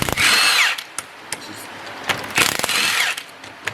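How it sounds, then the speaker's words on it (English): A 1/2 inch impact wrench with a 19-17 socket loosens bolts on a GTR front differential, giving two loud buzzing bursts of about half a second each, separated by a few short clicks and knocks, close by in a workshop. "that's just a 19-17 socket, 1/2 inch impact, and go at it one at a time until you get them off"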